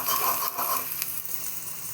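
Poha khichdi sautéing in a pan gives a steady broad sizzle with light stirring scrapes. The sound runs continuously through the whole moment, moderately loud and close, with no talk.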